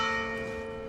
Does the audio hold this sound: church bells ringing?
yes